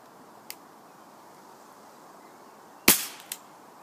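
A single sharp gunshot cracks at a shooting range, loud and close, trailing off with a short decay, with fainter clicks before and after against a quiet background.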